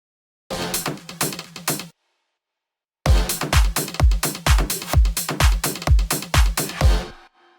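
A punchy electronic drum pattern in a music drop plays, briefly stops for about a second, then returns with heavy kicks and snappy hits in a steady, driving rhythm.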